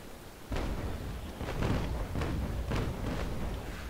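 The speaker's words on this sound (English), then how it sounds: "Some hit, but that was a bad broadside." A ragged video-game ship cannon broadside in Naval Action: around six muffled booms fired in quick, uneven succession at a distance.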